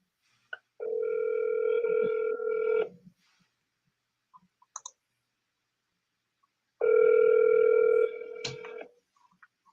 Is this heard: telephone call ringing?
yes